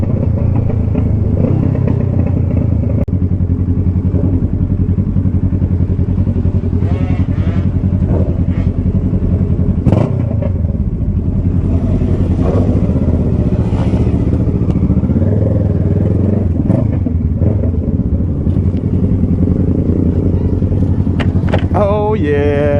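Video game motorcycle engine revving steadily while the rider pops wheelies, a continuous droning motor with rising and falling pitch under occasional talk.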